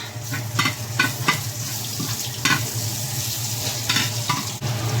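Onion and tomato hit hot oil and fry for a sinigang sa miso with salmon head. A loud, steady sizzle runs throughout, broken by clattering stirs and scrapes of a utensil in the pan.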